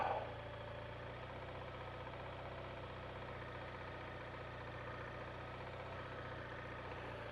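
A BMW R1200RT motorcycle engine runs at low revs during slow, clutch-controlled riding, a steady droning hum with a faint knocking pulse that stays even and close, with no voices.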